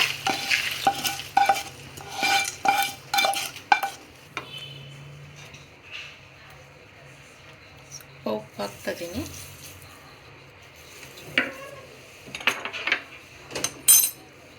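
Spiced paper avalakki is tossed with salt and sugar, a spoon scraping and clinking against a metal pan in bursts of stirring, with pauses of quieter rustling and a voice talking over parts.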